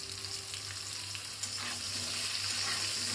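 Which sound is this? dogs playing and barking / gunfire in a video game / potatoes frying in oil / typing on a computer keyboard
potatoes frying in oil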